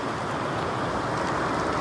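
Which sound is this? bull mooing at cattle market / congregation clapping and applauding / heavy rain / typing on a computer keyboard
heavy rain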